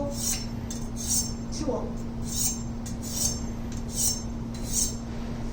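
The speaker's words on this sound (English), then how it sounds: "bottom so that I actually hit my steel and my sharpening knife." A kitchen knife is honed on a sharpening steel in steady, repeated metallic scraping strokes, each a bright ringing swipe about every second, with a low hum and a brief spoken word underneath.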